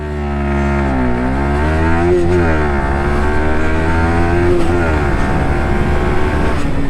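A Yamaha R15 V4 155cc motorcycle engine revs hard past 7500 RPM, its pitch climbing and dipping in steady sweeps, loud and close throughout.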